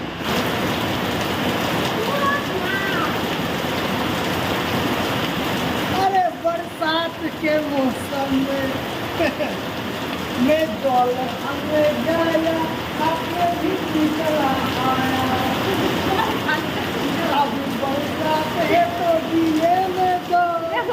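Heavy rain pours down steadily in a dense hiss throughout, with voices talking over it.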